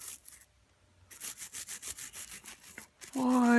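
A toothbrush scrubs paint remover off a painted model in quick rhythmic back-and-forth strokes, a close, steady rasping that runs for several seconds before a voice breaks in at the end.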